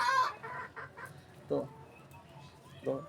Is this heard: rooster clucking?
yes